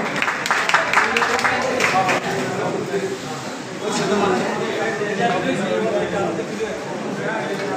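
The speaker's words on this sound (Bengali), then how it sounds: "ফয়সাল ভাইয়ের জন্য একটা করতালি হোক।" Audience clapping for a guest being honoured at a pigeon club award ceremony, a burst of applause under a loud announcer's voice that fades into crowd murmur.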